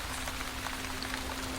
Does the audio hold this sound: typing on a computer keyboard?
no